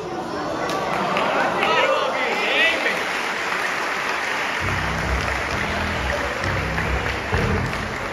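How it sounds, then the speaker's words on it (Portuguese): Church congregation clapping in a loud, dense wash across a large room, with murmuring voices and a deep rhythmic thumping entering partway through. "Vocês estão aplaudindo que ela falou errado"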